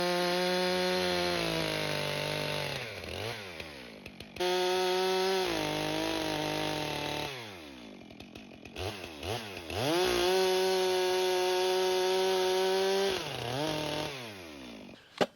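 A Woodmizer LT15 sawmill mills a crooked, cracked bigleaf maple log. The engine drones close by, with the pitch shifting as the blade works through the wood, broken by short dips and pauses between passes.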